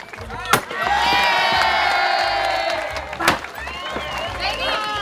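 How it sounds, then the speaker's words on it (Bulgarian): Wedding guests cheer, whoop and clap loudly for a bride breaking glasses in a traditional ritual, a sustained crowd roar with a sharp crash near the start and another midway. "Аплодисменти за булката, която буквално натруши чашата."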